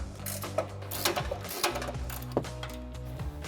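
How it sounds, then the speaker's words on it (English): 18mm and 21mm ratcheting wrenches working loose the upper control arm bolt and nut on a 2014-2020 Ford F-150 during a suspension lift install: quick runs of close metallic ratchet clicks in short bursts, with no talk. "we can take an 18mm ratcheting wrench on our bolt side and a 21mm ratcheting wrench on our nut side"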